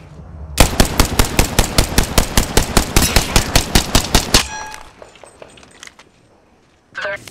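Rapid automatic gunfire from enemies in a shooting video game rattles loud and close in a steady burst of about twenty shots, then cuts out to quiet game ambience and a brief later sound.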